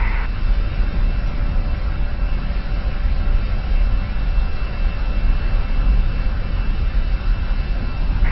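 Steady, loud turbine roar and rotor drone from an AS350 B3 helicopter in a VR flight simulator game, a constant dense engine noise that holds unchanged throughout while it prepares for takeoff.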